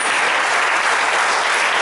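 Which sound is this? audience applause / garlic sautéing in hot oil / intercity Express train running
audience applause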